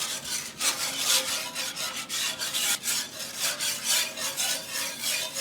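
Milk gravy being whisked in a pan for chicken fried steak, the whisk scraping browned meat bits off the bottom in a steady, busy rasping rhythm, close and fairly loud with no talking.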